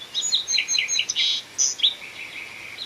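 Small songbird chirping close and clear, a quick run of bright tweets and short trills that come in bursts, over faint outdoor ambience.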